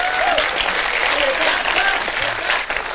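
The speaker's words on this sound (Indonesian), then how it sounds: "Ya tepuk tangan untuk beliau." An audience at a public gathering breaks into loud, sustained applause, with a voice faintly audible beneath the dense clapping.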